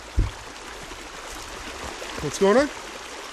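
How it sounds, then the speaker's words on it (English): A stream of water flows down a wooded slope, a faint steady wash heard under a man's brief spoken question and a few rustling steps. "I heard water, and now we have come across and found the water"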